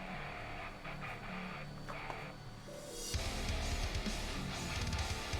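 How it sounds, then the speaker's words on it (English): A 3D printer's fan whirring steadily in the background during a long sword print, joined by faint mechanical tones. A louder, rougher broadband rush takes over about halfway through, and no one speaks. "If you guys can hear the fan in the background, it's my 3D printer."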